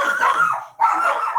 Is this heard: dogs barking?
yes